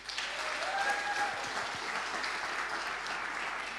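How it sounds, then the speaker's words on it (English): Congregation clapping for the helpers at an all-age church service, a steady, fairly faint patter of applause heard from a distance. "I think we really need to give these helpers a huge clap"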